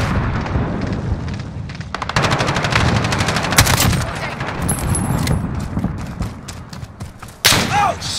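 Gunfire in the Call of Duty: Modern Warfare video game: loud, rapid automatic bursts and single booming shots fill the whole stretch, with heavy thuds and a brief lull before a final sharp volley.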